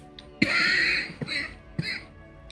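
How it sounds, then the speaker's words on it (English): A person coughing in three harsh, raspy bursts, close to the mic, the first long and rough, followed by two shorter throat-clearing coughs with brief pauses between them. "I'm coughing today for some reason."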